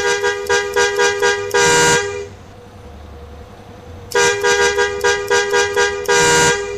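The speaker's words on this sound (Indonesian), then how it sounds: "Dan untuk klakson 3." Bus horn from a Mercedes OH1626 sound mod in Bus Simulator Indonesia, played as loud, close bursts: a quick run of short staccato toots, a sustained blast, a pause with low engine rumble, then another run of toots and a long blast.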